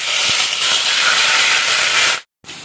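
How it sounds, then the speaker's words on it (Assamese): Onions fry in a pan for a pigeon curry, giving a loud, close, continuous sizzle that drops out briefly near the end and then returns faintly. "এতিয়া এইখিনি পিঁয়াজখিনি ফ্ৰাই হৈ আছে"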